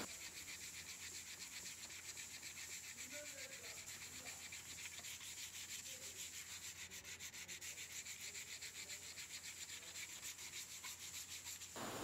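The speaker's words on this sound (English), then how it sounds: "Because it's a curved surface, I cannot use the machine over here, so it's all about hand sanding." Continuous hand sanding on curved MDF or plywood, a soft rhythmic rasping rub with a faint steady background hum, no voices.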